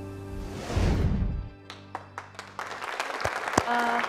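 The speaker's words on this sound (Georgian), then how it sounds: "აპლოდისმენტები უნდა გავუგზავნოთ ნამდვილად ამ გოგონას" A studio audience at a talk show applauds: a brief swell of clapping quickly gives way to scattered, individual claps, moderately close.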